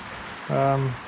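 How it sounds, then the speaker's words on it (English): Heavy rain falls steadily outside, a soft continuous hiss throughout, with a short voiced sound rising over it midway. "as you can see out there, it's raining quite hard"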